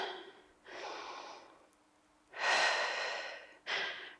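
Deep, slow breaths during final stretches of a mobility and core workout, long airy inhales and exhales close to the mic, three or four breath sounds with quiet gaps.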